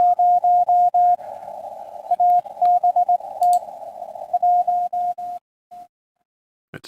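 A Morse code CW signal on amateur radio beeps as a steady single tone in dots and dashes through a receiver, sitting over faint static hiss before stopping.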